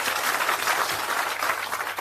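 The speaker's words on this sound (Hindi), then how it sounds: "जोरदार ताली बजाया।" An audience at an Indian political gathering with Prashant Kishore claps steadily, a dense, even roar of applause from start to finish.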